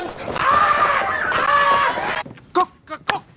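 Several people in a workout session shriek and squawk in chicken imitation, a loud sustained burst of wavering cries for about two seconds, followed by a few short sharp yelps.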